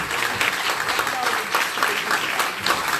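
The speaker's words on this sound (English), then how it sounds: "give them all a big round of applause" Audience applause at a magic and mystery theater show, a brisk, fairly loud patter of many hands clapping in an uneven rhythm, with a voice talking faintly underneath.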